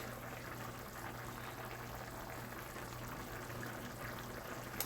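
Curry turkey simmers uncovered in a pot, a faint, steady bubbling and hiss over a low hum, continuous and even with no voices.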